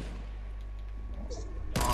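A gunshot in the video game Fortnite Battle Royale, a sniper shot across a hill: quiet game ambience with a low hum, then one sharp, loud blast right at the end.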